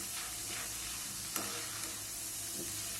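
Ingredients for Diwali chivda are being sautéed in oil in a pan, giving a soft steady hiss with faint scrapes of stirring, quiet and close, with no voices.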